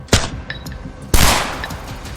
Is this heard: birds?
no